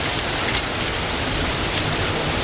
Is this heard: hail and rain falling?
yes